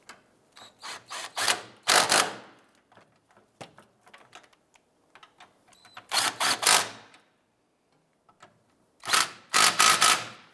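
A ratchet snugs down the rear engine mount bolts on a 2001-2005 Honda Civic, with bursts of rapid close clicking separated by pauses and quieter handling noises.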